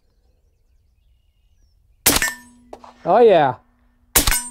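Suppressed AR rifle firing 300 Blackout subsonic rounds, two sharp close shots about two seconds apart, with a man's brief exclamation between them.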